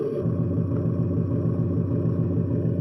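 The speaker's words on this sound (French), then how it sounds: "Mise en route du moteur." Electronic V8 diesel engine sound effect from a radio-controlled model boat's sound module, starting up and settling into a loud, low, rhythmic idle rumble that pulses steadily throughout.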